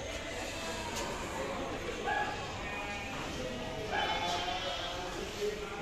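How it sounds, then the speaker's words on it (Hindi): A goat bleats a few times at the Deonar livestock market, the calls fairly faint and set in a busy crowd murmur, with someone talking nearby over the market noise. "ये भी एक बड़ा बकरा है दोस्तों,"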